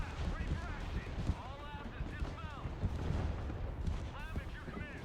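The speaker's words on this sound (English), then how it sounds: "I forgot how startling that that artillery barrage is." An artillery barrage in the grim sci-fi game Warhammer 40,000 Darktide sends dense, continuous low rumbling booms and crackling blasts that fill the whole span, with a person's voice faintly present under the din.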